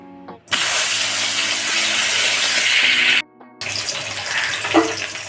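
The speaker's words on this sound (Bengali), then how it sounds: "তেলটা আমার গরম হয়ে গেছে, এবার আমি ইলিশ মাছগুলো ছেড়ে দেবো।" Hilsa fish pieces, rubbed with turmeric and salt, drop into hot oil with a sudden loud sizzle that hisses strongly, cuts out briefly, then surges back with crackling spatter.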